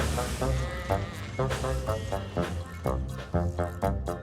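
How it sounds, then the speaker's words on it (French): Sheep in a children's cartoon give a rapid run of short bleats, one after another in a steady rhythm, at a fairly quiet level. "Cette nuit-là, dans le hangar, Mike se plaint des moutons auprès de Rex et de Bert"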